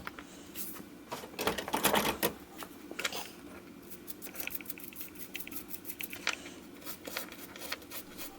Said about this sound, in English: So I'm going to grab a toothbrush that I've got here on the bench and just clean this out.